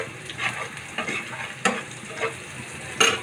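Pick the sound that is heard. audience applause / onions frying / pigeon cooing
onions frying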